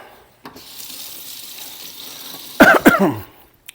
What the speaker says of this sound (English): let me rinse this here fork for a minute